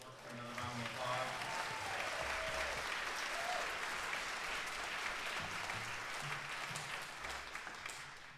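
An audience at an orchestra's end-of-year concert bursts into sustained, dense applause that fills the whole stretch, with faint voices and some low tones underneath.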